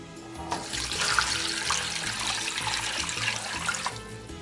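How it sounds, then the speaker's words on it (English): About six cups of water poured into a pot for chicken soup, a steady rushing splash that runs continuously, close and fairly loud, with no talk. "you want to go ahead and add in about 6 cups of water."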